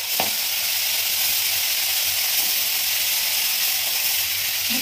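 Prawns frying in a pan for a malai curry, a loud, even hiss of hot oil lasting throughout with barely any variation, close by and without talk.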